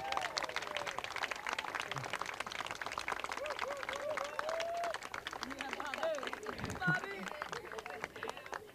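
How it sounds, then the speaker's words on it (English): An outdoor crowd at a farm ribbon-cutting ceremony claps for master farmers, steady dense applause with scattered voices and cheers mixed in throughout. "Give them a round of applause."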